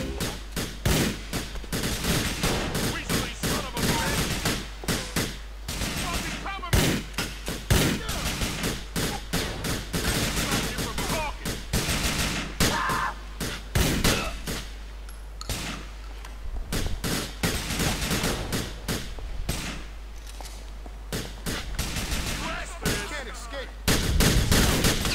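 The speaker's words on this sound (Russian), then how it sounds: "Ты кто там стреляет по ним еще, а?" Dense, sustained gunfire in the video game Grand Theft Auto IV, rapid bursts and single shots stacking into a loud, nearly continuous barrage that lasts throughout, with a brief lull near the end.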